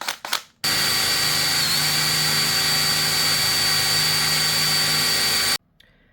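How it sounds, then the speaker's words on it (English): A power drill bores a 6 millimeter hole in a homemade trailer for an M41 RC boat, with a steady close whine lasting about five seconds after a few brief knocks. "now we're gonna drill a 6 millimeter hole"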